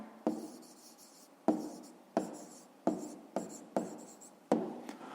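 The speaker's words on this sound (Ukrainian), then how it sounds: "записуємо тоді відповідь" Pen or pencil writing out a fifth-grade math answer on paper, seven short scratchy bursts of strokes at close range, each starting sharply and trailing off, with no voice.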